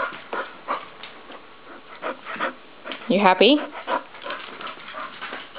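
A dog indoors pants in short, quick bursts and lets out a brief whimpering whine midway, close by, while a person talks to it.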